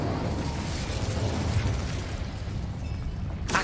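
An Incendio fire spell cast in Hogwarts Legacy unleashes a loud, sustained roaring burst of flame with a dense rumbling body that holds steady for several seconds, then ends in a brief sharp crackle.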